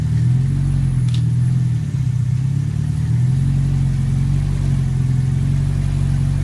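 A K20A-swapped Honda EM2 Civic running on E85 idles and revs with a loud, close, throaty rumble that rises and falls in pitch, with no talking.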